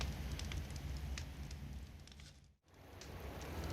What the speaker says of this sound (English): We gathered around the campfire for added warmth as the temperature started to drop.